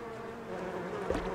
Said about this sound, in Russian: Ух, сколько пчел